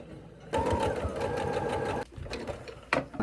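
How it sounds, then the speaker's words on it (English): A sewing machine runs a yellow top stitch on old jeans being made into a hat, a steady close mechanical whir for about a second and a half, then a pause and a few shorter bursts of stitching. "I need to sew a little top stitch onto this."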